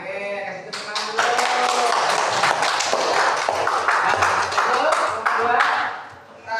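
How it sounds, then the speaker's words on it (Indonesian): A group claps together at an indoor gathering, with dense, steady applause rising quickly and holding for about five seconds before fading. "kasih tepuk tangan dulu"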